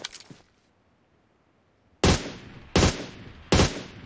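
Gunfire in the mobile battle royale game PUBG Mobile: three loud, sharp bursts of shots at roughly even intervals, preceded by a brief quieter burst and a stretch of near silence.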